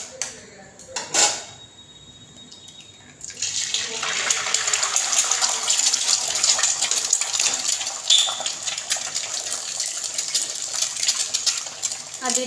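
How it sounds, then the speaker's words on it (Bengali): An egg dropped into hot oil in a wok sets off a loud, continuous sizzling hiss that starts abruptly after a few quiet seconds of brief clinks, then holds steady and close until the end. "প্রথমে ডিমটা ভেজে নিচ্ছি।"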